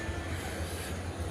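An empty train rumbles at NJP railway station during lockdown, a steady low rolling drone with faint metallic clatter, continuous and fairly close.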